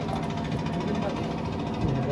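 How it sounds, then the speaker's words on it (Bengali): A motorboat engine runs close by with a steady, rhythmic chugging throb and mechanical rattle, people talking over it. "এইটা ইঞ্জিনের নৌকা, আমরা এখন ইঞ্জিনের নৌকা দিয়ে ওই মায়াবী ঝর্ণা যাবো"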